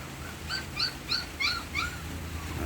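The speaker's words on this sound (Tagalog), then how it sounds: "Ando yung mga tuta namin." Several puppies whimper close by outdoors on a rainy morning, five or six short high whines coming at a steady rhythm over a faint background hum, with no talking.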